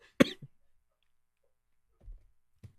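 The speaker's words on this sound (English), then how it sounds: "I'm just letting people know why I got the cough because of the allergies" A single sharp, loud cough from a person with allergies, followed by a short throaty trailing sound and two fainter low throat noises a couple of seconds later, in an otherwise quiet room.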